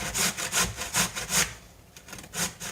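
Food is rubbed down against a grater for scrambled eggs, making rapid rasping strokes in a steady back-and-forth rhythm, close and clear, with a short pause before a few more scrapes.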